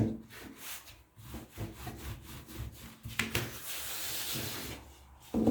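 A rolling pin works dough thin on a board for tahini poppy seed pastry, with repeated soft rubbing strokes and wooden knocks at a moderate, quiet level.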